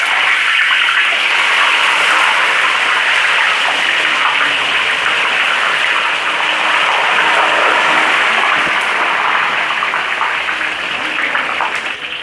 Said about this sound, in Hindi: इसमें ही हमने इसको फ्राई करना है और कड़क करना है